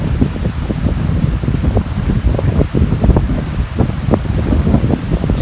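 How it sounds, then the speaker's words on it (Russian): Strong squall wind gusts through a seaside park at the north end of Kobuleti, a loud continuous roar with rustling bursts and buffeting against the microphone, no voices audible. "Это я ветер пытаюсь перекричать."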